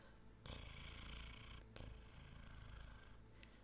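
A person imitates a cat's purr with a low, continuous throaty rumble, steady for a few seconds with a brief break partway through.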